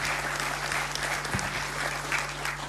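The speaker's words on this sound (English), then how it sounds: "I think she deserves a round of applause," Steady applause from an audience at a youth leadership forum, dense clapping filling the whole stretch at an even level with no voices over it.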